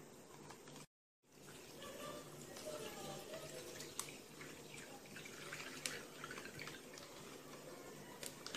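Water trickles slowly into a plastic bag as part of a water cycle activity, a soft continuous pouring with small drips, while voices talk quietly in the room.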